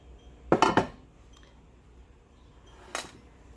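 A glass baking dish of stuffed peppers is shifted on a kitchen counter, giving a quick cluster of clinks and clatters, then a single lighter knock a couple of seconds later, with quiet room tone between.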